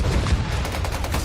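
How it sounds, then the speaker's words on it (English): Continuous rapid gunfire with dull thudding impacts in a war video game where enemy mortars are landing, a dense close barrage filling the brief moment. "We got enemy mortars on us."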